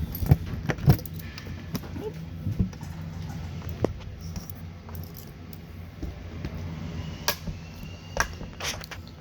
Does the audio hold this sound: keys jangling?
yes